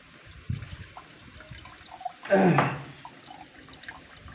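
A short gush of coconut water splashes out once from a freshly opened coconut, briefly and fairly close, against a quiet background with a few small knocks.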